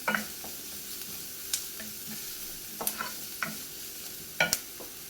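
Onions sautéing in a pan for a soya dish, a soft continuous sizzle broken by intermittent scrapes and clinks of a spoon stirring against the pan.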